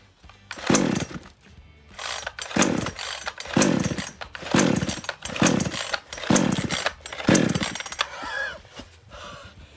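A COOCHEER 62cc two-stroke gas chainsaw revs in five or six loud, rhythmic bursts, each throttle blip rising to a rough snarl and dropping back to a rattling idle between.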